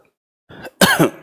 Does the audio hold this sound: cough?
yes